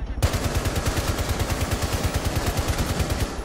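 Sustained automatic gunfire in Rainbow Six Siege, a steady rapid stream of loud, close shots firing evenly for several seconds without pause.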